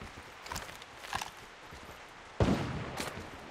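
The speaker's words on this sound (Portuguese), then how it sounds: "Eu não sei de onde veio o tiro" Gunshots ring out in the rainy first-person shooter Lost Light: a few sharp, moderately loud cracks spaced apart, with a heavier, fuller blast near the end followed by one more shot, over a steady wash of background noise.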